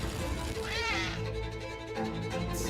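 Meows from a cat character in a Stray 2 video game trailer rise and fall in a drawn-out, wavering cry over a busy background of music and trailer sound.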